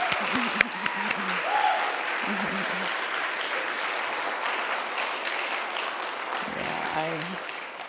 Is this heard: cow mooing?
no